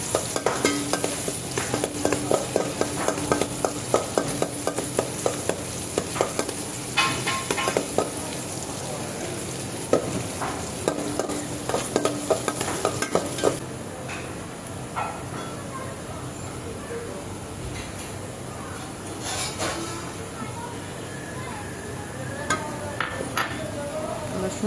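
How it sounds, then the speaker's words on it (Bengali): Onions fry in a pan for white pulao and are stirred until browned: a loud, constant sizzle with rapid scraping strokes that settles into a quieter, calmer sizzle with occasional clicks partway through. "আমরা সুন্দর করে পেঁয়াজটাকে নেড়ে চেড়ে লাল করে নিচ্ছি।"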